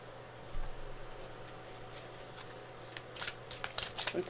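A deck of tarot cards is shuffled by hand nearby, a soft, quiet riffle of papery flicks that grows busier toward the end.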